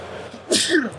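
A single close, sharp sneeze erupts after a brief inhale during a tabletop Marvel Crisis Protocol tournament game, with faint room murmur around it.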